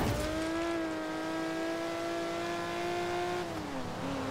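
A car engine in the Forza Horizon 3 racing game holding a loud, steady high drone as the revs climb slowly, then dipping briefly near the end, with no talk over it.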